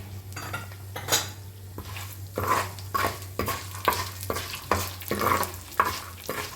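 Peanuts, urad dal, fenugreek, coriander seeds and mustard seeds fry in a pan for an amla and green chilli pachadi, with a ladle scraping in a brisk, regular rhythm over a crackling sizzle and a low steady hum.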